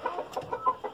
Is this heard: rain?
no